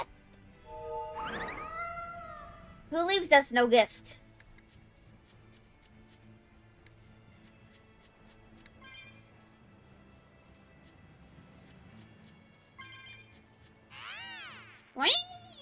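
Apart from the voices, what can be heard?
cat meowing in the video game Tales of Bersia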